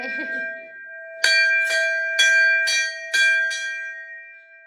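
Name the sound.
temple bell ringing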